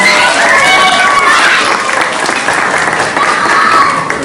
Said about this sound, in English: How about a nice round of applause for Elena?